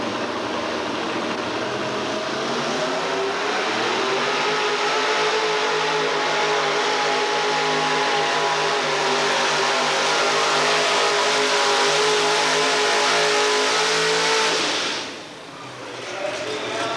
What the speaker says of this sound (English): He's in the Red Fever truck, powered by the big bad Hemi.